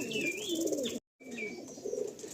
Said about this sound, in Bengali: এই এক সেট আমার পাগলা লাইনের পায়রা দেখাচ্ছি